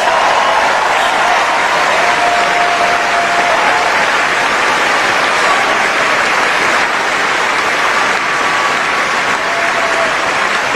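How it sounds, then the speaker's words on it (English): Steady, dense crowd applause for the champions at the 2021 Wimbledon women's doubles final, loud continuous clapping filling the whole stretch with no pauses. "another round of applause for your Wimbledon champions."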